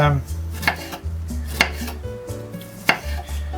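Garlic is chopped with a knife on a cutting board in quick, irregular close knocks, about a dozen sharp taps with a faint background hum and no talking.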